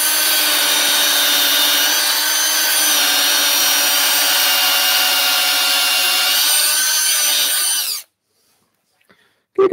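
A drill whines loudly and continuously during woodturning of a wooden lighthouse, then cuts off abruptly, leaving near silence with a couple of faint knocks.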